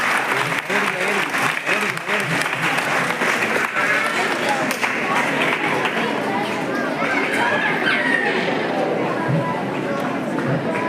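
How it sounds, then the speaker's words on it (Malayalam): Clapping from a crowd at a school opening and results celebration, where a minister inaugurates the event: dense, loud, steady applause that carries on for the whole stretch, with some chatter mixed in. "നല്ലൊരു കൈയടി."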